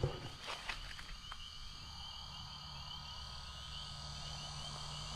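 A distant chorus of spring frogs croaks steadily and softly on a farm property, with a few nearby rustles at the start.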